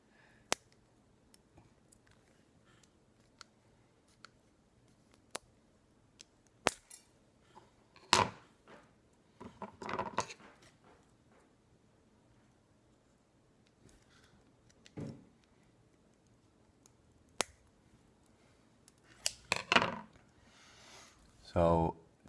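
Plastic casing sides of a Nano CPX battery being cut off, left and right: a handful of sharp, isolated snips and clicks spaced several seconds apart, with a quick cluster near the end and near-silence between cuts.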